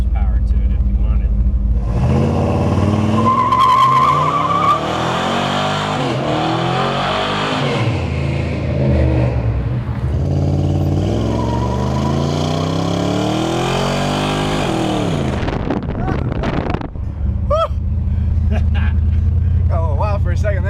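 A hot rod with a 400 small-block engine roars through a tire burnout, revving loudly with rising and falling engine pitch over a sustained rumble, close by, with people talking over it.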